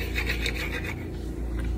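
A simple dimple fidget spinner rasps and rubs steadily while handled, a close, continuous scratchy noise with no talking.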